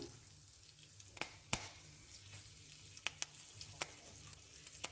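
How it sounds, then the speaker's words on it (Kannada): Quiet steady sizzle of hot oil with scattered sharp pops and crackles as turmeric and curry leaves are tempered, a few bursting at irregular moments, close and alone. "ನೋಡಿ ಒಗ್ಗರಣೆ ಪಟ ಅಂತ ಸಿಗುತ್ತಾ ಇದೆ"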